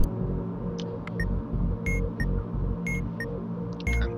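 Short electronic Morse code beeps in a video game repeat in a steady pattern over a dense, rumbling game soundscape.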